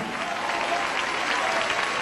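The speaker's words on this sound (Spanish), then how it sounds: "Ese aplauso sea para el Señor Jesús." Dense, even applause from a church audience during a Christian testimony, a steady wash of many hands clapping at a moderate distance, alone with no voices over it.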